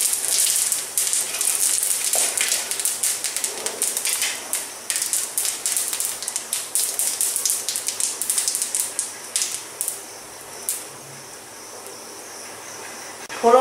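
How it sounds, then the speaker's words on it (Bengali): Cumin seeds and dried chillies are tempered in hot oil left from frying pabda fish, giving a loud, close sizzle with dense crackling pops that thin out toward the end. "এবার আমি ওই গরম তেলে দিয়ে দিলাম জিরে"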